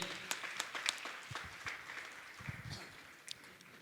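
Audience applause at a Jain spiritual question-and-answer gathering led by a monk at Gunayatan, Shikharji, Jharkhand: scattered, fairly soft clapping rising and falling over a few seconds, heard from a distance without voices on top.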